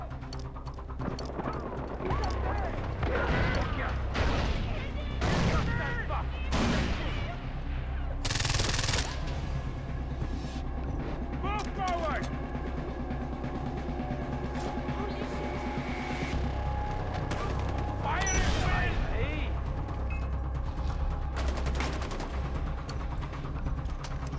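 Rapid bursts of automatic gunfire from the Far Cry 4 video game crackle in repeated volleys, sharp transients cutting through a dense, busy game soundscape with speech mixed throughout.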